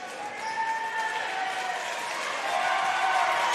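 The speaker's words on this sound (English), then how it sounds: "loud cheer from the crowd as Brady Baker heads to the bench" A crowd at a boys high school regional championship basketball game cheers and applauds loudly in a gym, a sustained roar of voices holding steady for several seconds.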